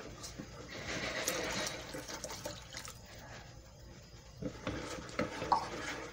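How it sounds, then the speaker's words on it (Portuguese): Ajax apple soap being beaten into oil in a bucket, giving a soft, irregular sloshing and stirring of thick liquid at moderate volume, with a few sharper splashy knocks toward the end. "Batendo o Ajax aqui no óleo para purificar."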